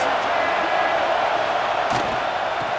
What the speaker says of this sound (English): the crowd gets behind this defense